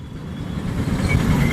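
Road traffic crowds the way to the Maha Kumbh Mela 2025 in Prayagraj, with bikes passing. It comes through as a continuous, fairly loud rumble of engines and tyres that swells slightly toward the end, with no voices.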